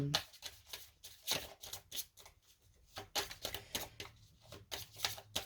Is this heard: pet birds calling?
no